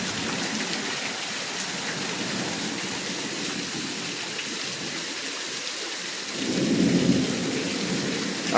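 Heavy rain pours down steadily after a long dry spell, a dense close hiss with splashing, and a low rumble of thunder swells briefly near the end.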